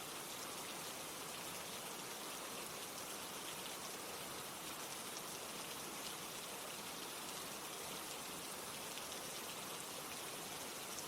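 Steady rain falls without pause, a dense, even hiss of drops that holds at the same loudness throughout with no other sounds.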